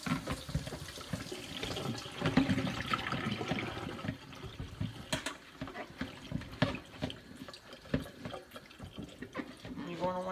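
Washed strawberries and water poured into a strainer, a fairly steady splashing, rushing pour lasting several seconds with some trickling and clatter toward the end, close to the microphone.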